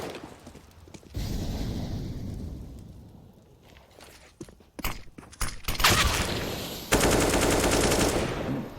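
Rapid gunfire in the Counter-Strike match on the Dust2 map, with bursts of automatic shots and sharp single cracks, busy footsteps and clatter between them, growing louder and denser toward the end.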